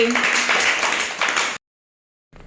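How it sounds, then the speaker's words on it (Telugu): Young children in a grade 1–2 classroom clap for a classmate in a brief burst of scattered claps that cuts off abruptly into silence. "క్లాప్స్ హర్షాకి"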